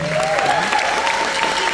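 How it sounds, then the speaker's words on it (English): Steady applause from a crowd at a football and baseball awards ceremony, continuous clapping filling the clip with a faint tonal hum underneath. "How about a round of applause for that accomplishment?"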